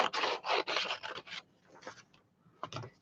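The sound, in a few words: cutting out tiny shapes for a miniature Christmas scene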